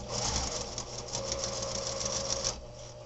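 A sewing machine stitches fabric guided with a stiletto, running in a fast, even close whir for about two and a half seconds before stopping abruptly.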